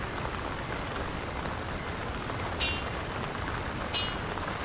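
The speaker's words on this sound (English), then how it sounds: "Who could live in a town where it's always raining?" Steady rain falling over a town in the video game Lord of the Rings: War in the North, a constant dense hiss with two brief faint chimes, no voices.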